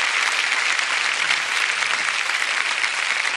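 A comedy show audience breaks into steady, dense applause, loud and continuous throughout with no pauses or talk over it.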